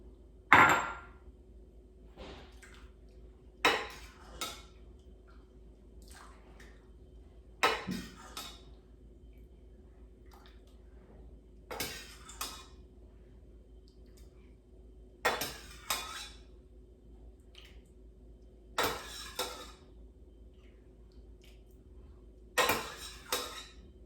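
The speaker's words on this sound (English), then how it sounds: "So now let me put the soup in a bowl." Soup ladled into a bowl while making Chinese egg drop soup, with about a dozen sharp clinks of ladle and dishes spaced through the stretch over a low steady background hum.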